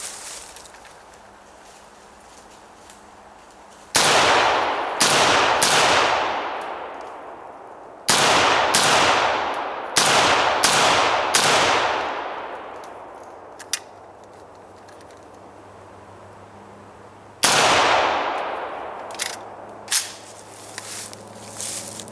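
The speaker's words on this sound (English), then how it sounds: "So basically this is how I would carry the rifle right here if I was, getting ready to shoot it" Century Arms C39 AK-47 rifle fires loud, sharp gunshots outdoors at a soda, in spaced single shots and quick doubles with echoing decay, and faint handling clicks between.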